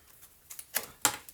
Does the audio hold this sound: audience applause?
no